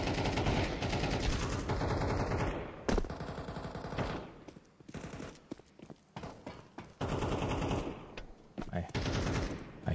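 Rapid bursts of Counter-Strike 2 gunfire crackle in volleys, with pauses between them and a voice talking over parts of the action.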